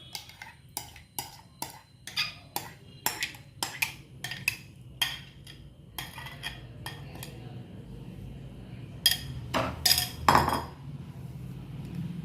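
Mango pulp being stirred in melted ghee in a pan, with a spoon clinking and scraping against the pan in a quick, steady rhythm that gives way to softer scraping and a few louder knocks near the end.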